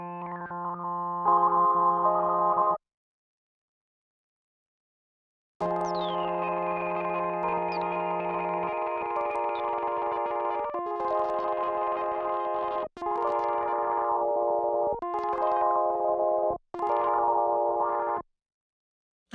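Arturia MiniFreak synthesizer tone run through its analog filter alongside the digital filter, heard as sustained buzzy chords in several bursts separated by short silences, with filter sweeps brightening and dulling the sound, loud and without talk.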